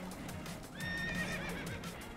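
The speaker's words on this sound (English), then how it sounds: "Horses are spooked." Spooked horses neigh in the Red Dead Redemption 2 video game, giving a clear, shrill whinny that rises and wavers for about a second. A steady low wash of game ambience runs underneath.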